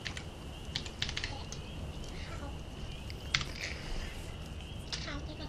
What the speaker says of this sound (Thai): พิมพ์ไปว่าบลัด